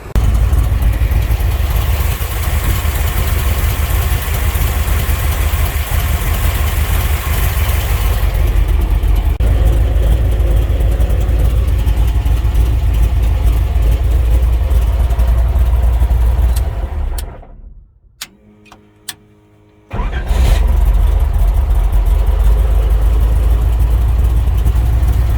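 A car engine with a freshly built Holley 600 carburetor idles loudly and steadily, then drops out to near silence for a couple of seconds before the same close, even idle rumble returns.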